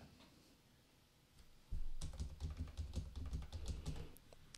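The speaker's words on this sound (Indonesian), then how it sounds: "Ini juga kalau kita ketik keyboard sedikit banget." Quick, irregular clatter of keys typed on a computer keyboard, picked up by a FIFINE K658 microphone in a quiet room, starting after a near-silent moment and continuing steadily, close and clear with no talk.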